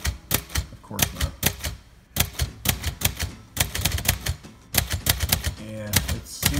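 Quick bursts of keystrokes on a 1958 Royal Quiet de Luxe manual typewriter, sharp clacks in irregular clusters with brief pauses, close and clear.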